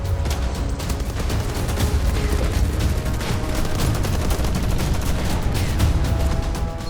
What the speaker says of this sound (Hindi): जिसके बाद रूसी सैनिक ताबड़तोड़ फायरिंग करते दिखे